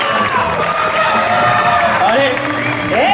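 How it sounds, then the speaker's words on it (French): Crowd cheering and applauding riders at a medieval knights-versus-barbarians show in Angers, a loud, dense, continuous roar of clapping and shouts with whoops rising over it, and a voice over a loudspeaker running underneath. "on les applaudit bien fort pour les anneaux fixes"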